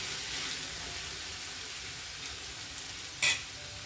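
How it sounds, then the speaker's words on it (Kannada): An egg frying in a pan gives off a steady, moderate hissing sizzle, broken once near the end by a brief sharp clink, with no one speaking. "ಅದಕ್ಕೆ ನಾನು ಮೊಟ್ಟೆ ಮಾಡ್ತಾಯಿದ್ದೀನಿ. ಸ್ವಲ್ಪ ಫ್ರೈ ಆಗಲಿ."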